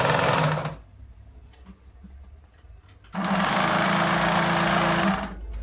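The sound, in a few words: sewing machine stitching straight pants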